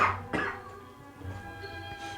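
Someone coughs twice close to the microphone, two short harsh bursts at the start followed by quieter room noise, during a podcast episode.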